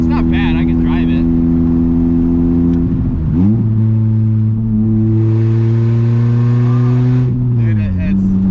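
A second-generation Mitsubishi Eclipse running an open header exhaust drives along with a loud, raspy engine drone that dips and climbs as it shifts, with people talking over it.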